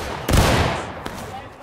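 A single loud, close gunshot in the Civil War battle game War of Rights, with a booming report that decays, followed by a fainter crack.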